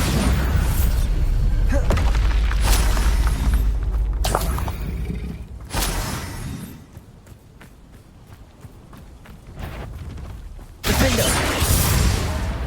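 Bombarda explosion spell blasts in the Hogwarts Legacy video game, heavy booming bursts repeating amid other spell effects and clatter, loud and close with dense rumbling low end throughout.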